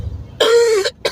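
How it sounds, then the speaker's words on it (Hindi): A single harsh, close cough from a man, one strong burst followed by a short second catch of breath. "खांसी बहुत ज्यादा ही हो गई यार"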